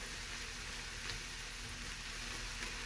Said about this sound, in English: we're going to saute these onions up